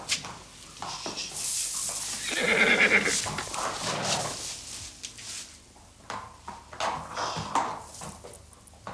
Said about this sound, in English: I understand you have a horse with colic.